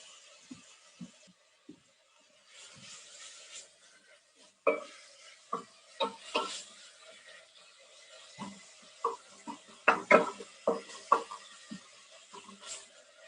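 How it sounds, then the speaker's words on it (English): Ingredients for lentil soup sautéing in a pan, heard as a quiet sizzle broken by a series of sharp spoon scrapes and stirring knocks against the pan, close and intermittent. "So while this is sauteing"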